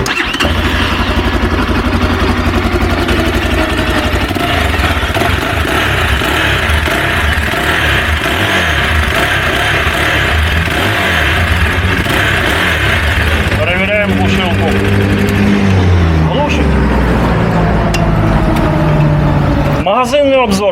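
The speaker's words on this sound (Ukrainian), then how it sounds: "І вниз ми стартуємо мотор." A KOVI ADT 300 motorcycle engine runs loudly and steadily, then is restarted partway through with a rising crank and catch before idling again, and a voice talks over it throughout.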